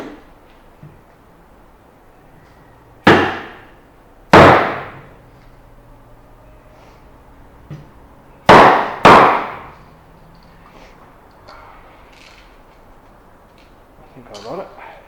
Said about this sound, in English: when you're ready to clear coat, you bang that a couple of times on the table, and that releases the hardener inside